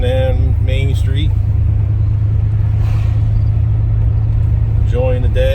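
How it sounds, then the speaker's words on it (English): A 1978 Plymouth Volare cruising down Main Street in a small town on its first legal road drive, with a steady loud engine and road rumble throughout and people talking over it. "Especially this is our first drive out in this old car"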